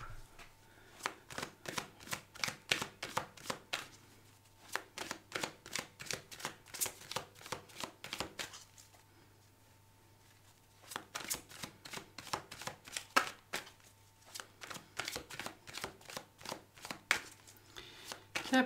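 Tarot cards are shuffled by hand for a weekly reading, a fast run of crisp riffling flicks close up, broken by a brief pause before a second long burst of shuffling.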